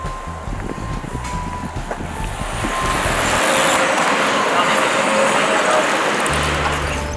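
Riding inside a cheap city bus in China: a steady broadband engine and road rumble that swells midway, with traffic noise around and faint voices mixed in.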